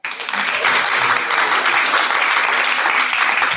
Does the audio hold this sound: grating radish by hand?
no